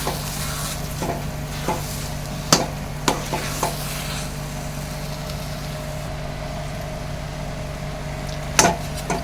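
Spoon stirring a thick puran filling of jaggery and cooked lentils in a pan, with intermittent scraping knocks and soft bubbling over a steady low kitchen hum, no talking.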